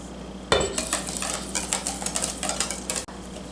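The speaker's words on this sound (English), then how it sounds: "And we'll whisk that together" A yogurt cake mixture being whisked in a bowl, producing rapid, close clinking and scraping strokes that begin abruptly and run for a few seconds with no talk.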